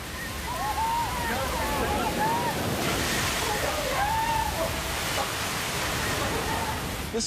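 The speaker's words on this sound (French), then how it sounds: "le plus vieux stade de baseball professionnel aux États-Unis est inondé par un véritable déluge" Floodwater pours over the oldest professional baseball stadium in the United States, the Red Sox ballpark in Boston, as a continuous loud roaring wash with sloshing surges and faint whistling tones riding above it.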